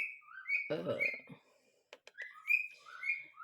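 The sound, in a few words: whistling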